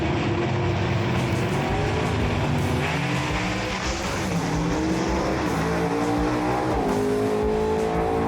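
A 1966 Chevy II gasser drag racing down the track, its engine roaring loud and close at full throttle with rising revs and gear changes, no talking.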